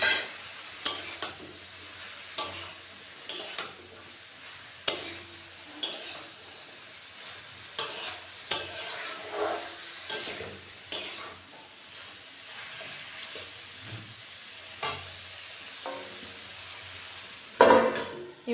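Onion greens and cauliflower fry in a pan under a soft sizzle, punctuated by a dozen or so irregular sharp scrapes and clinks of a spoon stirring against the metal, close by with no talking.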